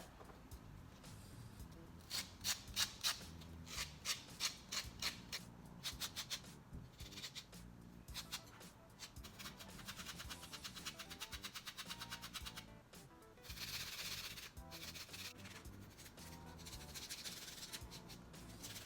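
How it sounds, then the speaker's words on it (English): Fingernails buffed with a nail buffer, a faint, quiet scrubbing that comes in quick rhythmic strokes and longer steady rubbing passes, close to the mic, with no voice heard. "So I am done filing and buffing my nails"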